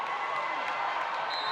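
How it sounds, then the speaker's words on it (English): Volleyball fans in a high school gym crowd cheering at game point, a continuous roar of voices with a few sharp spikes, sounding fairly distant and steady throughout. "Look at the crowd and the Westonka fans."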